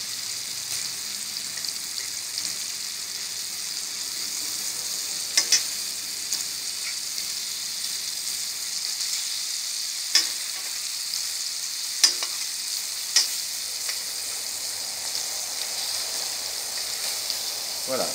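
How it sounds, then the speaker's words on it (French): Quartered mangoes roasting in a caramel pan give a soft, steady sizzle with a few faint clinks, fairly quiet throughout with no voices. "notre mangue est en train de rôtir"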